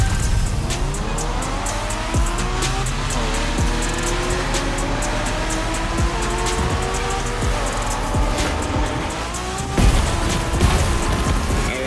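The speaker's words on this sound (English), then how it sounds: "We're going for some proper Japanese street racing." A racing car in The Crew Motorfest video game revs hard during Japanese street racing, its engine note climbing and dropping through gear changes while tires squeal and skid, loud and continuous throughout.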